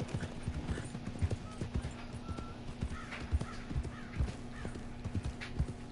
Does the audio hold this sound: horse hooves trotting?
yes